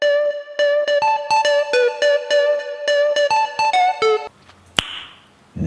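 Synth lead preset Attack Lead 3 in FL Studio playing a bright, buzzy staccato melody of short rhythmic notes, loud and alone, followed by a brief noisy burst near the end.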